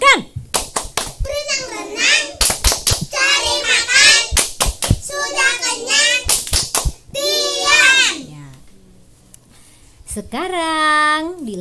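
Kindergarten children at a radio event clap their hands in a chanted clapping game, sharp rhythmic bursts of claps alternating with their sung words, close and lively.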